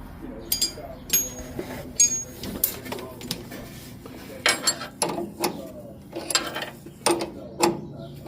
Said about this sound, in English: You want to tighten this bolt.